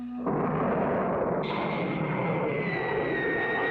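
A cartoon rocket blasts off with a sudden loud roaring rush that persists, joined by a rising whistling whine partway through, with no speech.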